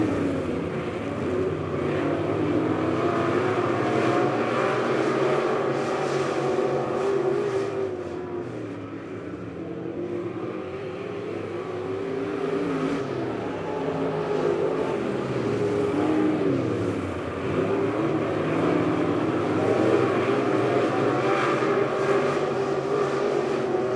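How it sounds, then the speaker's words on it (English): Heat-race cars circle the Lebanon Midway Speedway oval in a continuous roaring drone of engines that swells and fades as the pack passes through the turns and down the back stretch. "Chris Jackson out front, going to lead him out of 2, and down the back stretch"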